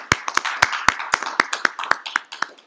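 A church congregation's sharp hand claps ring out in a quick, steady rhythm, about four per second, crisp and close.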